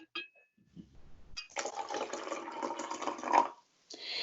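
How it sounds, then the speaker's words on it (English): A drink is poured from a thermos flask outdoors on a bench: a short clink, then a steady liquid trickle for about two seconds before it stops and a faint rustle follows, close and quiet. "takes a thermos flask from her bag and pours herself a drink from it"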